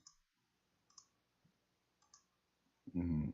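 A computer mouse clicking a query button, three or four faint, sharp clicks spaced apart in near silence, followed by a brief burst of speech.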